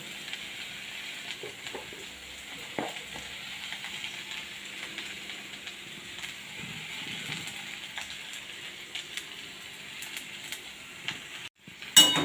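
Boiled susni saak greens fry in a pan with browned onion and cumin, giving a faint, continuous sizzling hiss with a few clinks and a sharper clatter at the end.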